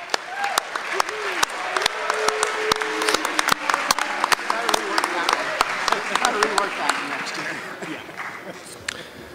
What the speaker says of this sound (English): Let's have a big round of applause for all the Chi Alpha Sigma inductees